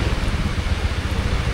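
Heavy rain falls as a steady, loud, broadband roar that does not let up, with no voices over it.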